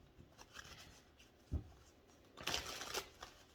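Tarot cards being shuffled by hand, faint riffling and soft slapping at close range with a thud and a louder flurry near the end, in an otherwise quiet room.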